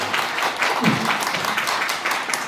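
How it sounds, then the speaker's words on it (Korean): Audience applause at a presidential candidate's press conference at the Seoul Press Center, a dense, sustained patter of many hands clapping at moderate distance. "박수 한번 힘차게 보내주시기 바랍니다"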